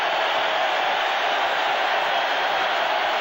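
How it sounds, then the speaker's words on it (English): Steady roar of a large stadium crowd at a 1985 NFL football game between the Atlanta Falcons and Seattle Seahawks in the Kingdome, a continuous broadband wash of cheering held at an even loud level throughout. "Here comes the crowd in an attempt to get back in the game."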